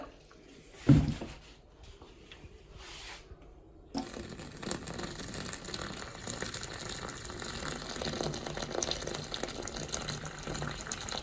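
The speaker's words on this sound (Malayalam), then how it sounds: "കുറച്ചധികം വെള്ളം ഒഴിക്കുക 2 സൈഡിലുമായിട്ട്" Water gets poured into a clogged kitchen sink drain: after a quiet stretch broken by a single thump, a steady, splashing pour starts about four seconds in and runs to the end.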